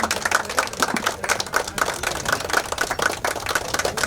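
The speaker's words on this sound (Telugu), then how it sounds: "దయచేసి అందరూ గట్టిగా క్లాప్ కొట్టండి" Audience at a World Television Day celebration in Ongole claps steadily, a dense, continuous patter of many hands at moderate loudness throughout with no break.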